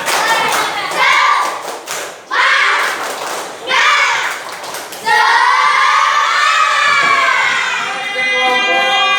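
A group in a classroom performs a rhythmic clapping chant, sharp claps in repeated patterns mixed with loud voices chanting and shouting together, ending in a longer sustained call.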